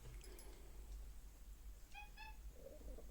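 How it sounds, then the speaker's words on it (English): A cat gives two short, faint meows in quick succession, close by indoors, beside a laptop being stripped down. Low room noise runs underneath, with no speech. "Cat wants a part in the video."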